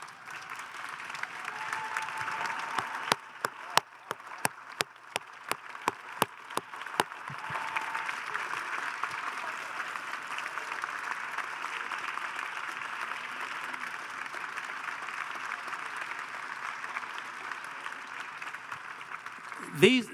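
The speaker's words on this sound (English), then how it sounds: "we could give a round of applause to all of you" A scattered round of claps starts sparse and sharp, then swells into a steady, moderate applause from an audience of young scientists as they stand, continuing to the end, with some voices underneath.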